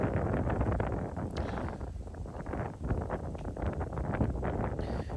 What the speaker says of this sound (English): There's your wind, yeah.